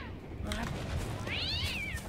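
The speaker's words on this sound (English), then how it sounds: "So you want to run in this direction to avoid all the cats, the cat ambush." Cats meow during an ambush in the video game S.T.A.L.K.E.R., with a couple of rising and falling yowls over a dense rumbling game soundscape, and a voice talks underneath.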